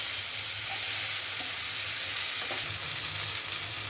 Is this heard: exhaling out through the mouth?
no